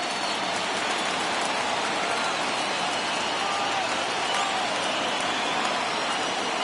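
A baseball crowd at a ballpark in Oakland rises and roars before a full-count 3-2 pitch, a dense, unbroken wash of cheering noise that stays loud and steady throughout.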